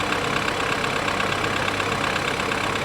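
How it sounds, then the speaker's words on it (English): A 2013 BMW 328i with a bad engine idles close by, a steady even mechanical hum and rumble with no talk over it. "That has got to be the best sounding bad engine I have ever seen in my life."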